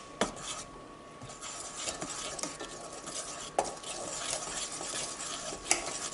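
A spoon scrapes and taps around a bowl, mixing lemon curd Swiss roll batter in a steady close stirring rhythm with occasional sharper knocks against the sides.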